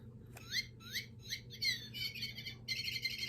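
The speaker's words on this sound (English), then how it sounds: "one ball contains electric squeaker" Electric squeaker inside a cat toy ball plays chirping bird calls, a series of short rising tweets and trills that grow denser toward the end, over a low steady household hum.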